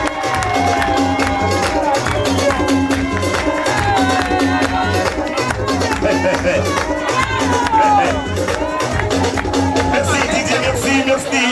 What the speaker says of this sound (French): On applaudit trop fort.